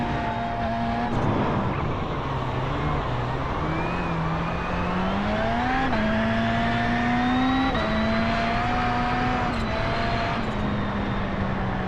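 An iRX Lite rallycross car in the iRacing sim at the Atlanta short course holds a continuous, loud engine drone, its pitch climbing and dropping through several gear shifts, with no speech.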